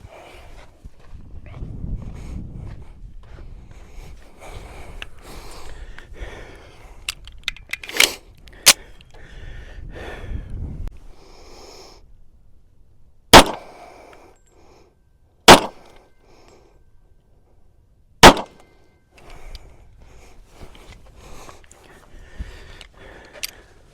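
An Ed Brown Special Forces II .45 ACP pistol fires three sharp, loud shots several seconds apart at a range, preceded by quieter handling clatter and faint background noise.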